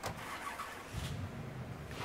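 A car in the video game Mafia 3 starting up, a brief low engine turnover settling into a quiet rumbling idle.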